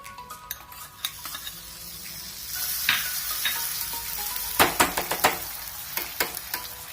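Eggless waffle batter spread in a buttered pan sizzles steadily up close, with light metallic clinks and scrapes of utensils against the pan growing busier toward the end.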